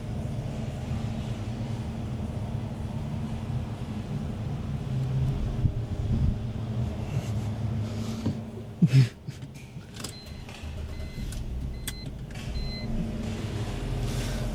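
A 2005 BMW 325i with a misfire code runs steadily, its low engine drone filling the scene with a brief louder thump partway through and light clicks near the end.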